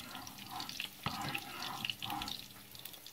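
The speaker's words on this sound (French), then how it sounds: "je rajoute un peu de l'eau pour la sauce moins épaisse" Water is poured into a pan of sweet and sour sauce for stuffed tofu, a brief, soft splashing trickle close by with faint kitchen noise around it.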